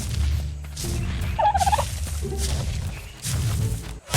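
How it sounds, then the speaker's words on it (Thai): A colorful duck-like creature in ARK: Survival Evolved gives a loud, gobbling fowl call in several bursts, close by, with whooshing game sounds around it. "ไอเป็ดตัวนั้นมัน จับได้มั้ยวะ"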